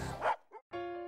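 A Dalmatian dog gives a couple of short, loud barks close by, the first strong and the second quieter, followed by a sustained whine-like tone.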